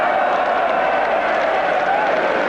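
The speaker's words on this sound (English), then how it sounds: "Acknowledges the applause from the crowd." A crowd at an indoor bowls match applauds a shot, a steady, full round of clapping and light cheering that holds evenly for a couple of seconds.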